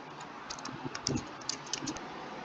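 Notes are typed on a computer keyboard into an online notepad: a quick, uneven run of crisp key clicks, close and moderately loud, with no one speaking.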